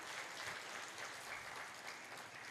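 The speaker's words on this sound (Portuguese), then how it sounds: "Você pode até aplaudir Ele por isso." A church congregation applauds during a family worship service, a steady, fairly distant wash of many hands clapping with no clear voices on top.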